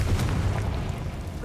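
A Confringo fire blast spell in Hogwarts Legacy lands as a low, muffled boom at the start, then fades into a dull rumble.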